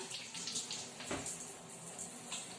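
A tap runs for hand washing, a soft continuous stream of water splashing into a basin, faint and steady with slight fluctuations throughout.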